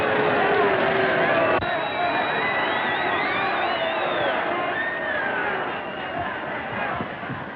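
Boxing arena crowd roaring and cheering, a loud, sustained wash of massed voices with whoops rising over it, steady throughout and fading slightly toward the end.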